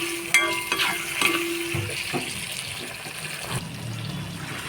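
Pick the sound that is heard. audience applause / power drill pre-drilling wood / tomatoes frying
tomatoes frying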